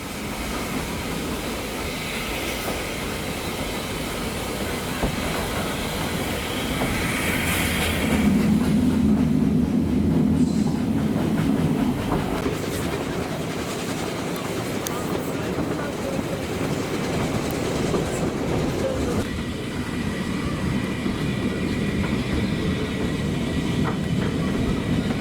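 A narrow gauge train on the Welshpool & Llanfair Railway runs along the track with a steady rolling rumble and faint rhythmic clatter, growing somewhat louder midway, with a voice talking over it.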